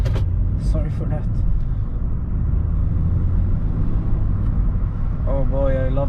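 A car with a big engine, heard from inside while driving on the road, gives a steady, loud low rumble throughout. There are faint clicks and brief rattles over it and a short voice-like tonal sound near the end.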